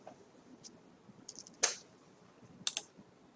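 A few sharp keyboard arrow-key clicks, spaced irregularly in a quiet room, one louder tap followed by a quick pair.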